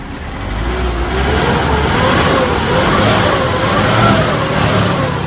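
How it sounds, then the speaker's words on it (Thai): An Isuzu D-Max diesel engine with a shaking, sluggish, black-smoke fault is revved from the rear, giving a loud, continuous rising roar that holds steady for several seconds. "เดี๋ยวผมเบิ้ลด้านหลังให้ดูก่อน"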